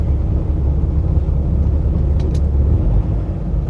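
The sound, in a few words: truck engine idling in cold weather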